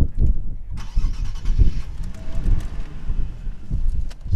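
A Nissan 370Z coupe with a 332-horsepower engine and six-speed manual starts up and revs, a steady rumbling engine note with wind buffeting across the microphone, heard up close with no talk.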